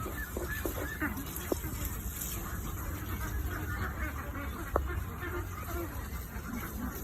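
A flock of about a thousand farm ducks quack and honk at a distance over steady background noise, with a couple of louder calls standing out.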